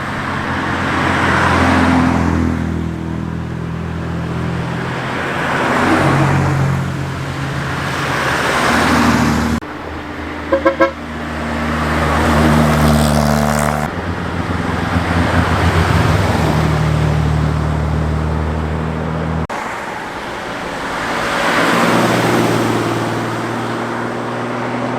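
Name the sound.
Austin Healey 3000 classic cars driving past on club run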